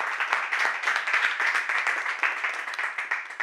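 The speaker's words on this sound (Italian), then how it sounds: "noi presentiamo con un applauso Daniele Ferretti" Steady applause from a crowd, dense clapping that holds at an even level throughout with no voices on top.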